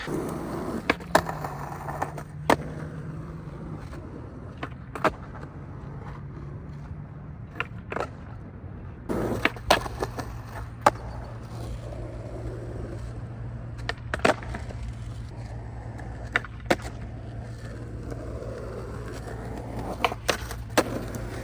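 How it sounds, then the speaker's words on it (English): Skateboard wheels rolling steadily on a popsicle-shaped deck at a spot patrolled by a security guard, with a low continuous roll broken by scattered clacks and thumps from the board. "it's been like well over a year since I skated an actual popsicle"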